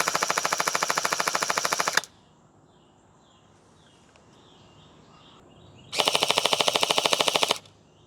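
Gel Blaster Surge gel ball blaster firing full-auto with its stock ammo, two loud rapid bursts of evenly spaced shots about two seconds each, separated by a quiet stretch.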